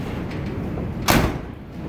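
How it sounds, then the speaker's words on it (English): The solid door of a 1979 Ford Bronco shuts with a firm thump close by, standing out briefly above a steady low background hum. "that door closes nice"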